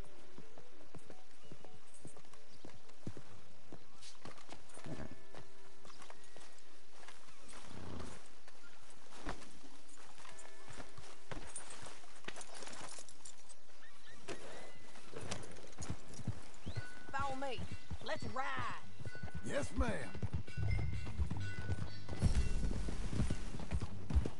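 Red Dead Redemption 2 game audio: rhythmic clip-clop of galloping horse hooves, with occasional whinnies and rustling, steady throughout and growing busier toward the end.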